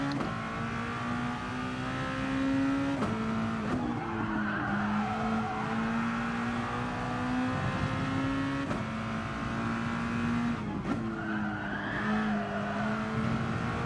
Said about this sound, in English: I'm on and off the throttle, because when I want to go on the throttle, the car can't handle it